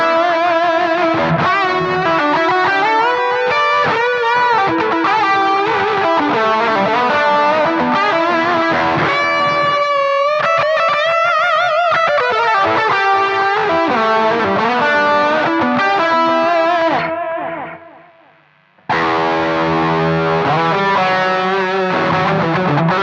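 Distorted electric guitar through a Marshall JMP-1 preamp plays a continuous melodic line with Memory Man-style delay repeats trailing each note, briefly dropping out near the end before resuming.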